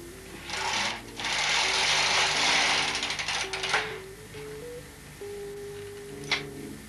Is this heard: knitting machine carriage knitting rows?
yes